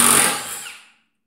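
A Ryobi 18V cordless drill whirs loud and close, then winds down and stops within about a second, leaving silence.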